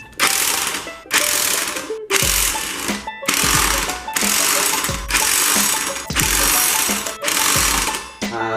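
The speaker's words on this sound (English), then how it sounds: "That air gun that I'm using is not an air tool, it's an impact wrench, and it's ran by electricity." An electric impact wrench hammers clutch pressure plate bolts on a Honda Del Sol, firing seven or eight loud, closely repeated rattling bursts, each about a second long, with brief pauses between them.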